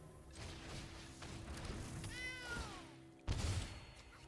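A single descending meow effect plays when a cat card is cast in a Magic: The Gathering game, fairly faint over a low steady game hum and followed by a soft thud.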